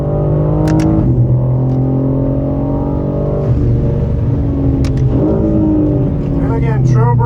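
Race car engine on the A1 Motor Park circuit, loud and close, holding a steady drone then dropping and rising again as the driver gets back on the throttle, with someone talking over it throughout.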